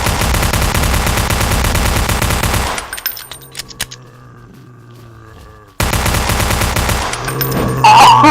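Rapid bursts of automatic gunfire from a zombie shooter game, Blockade 3D, crackle loudly and alone, break off into a quieter stretch of game ambience, then resume.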